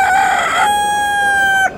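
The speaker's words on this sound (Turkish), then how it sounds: "Horoz." A rooster at a Bursa bird and poultry market crows one long, loud, close call that holds steady before cutting off abruptly.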